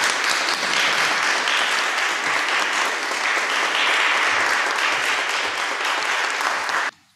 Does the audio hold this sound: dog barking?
no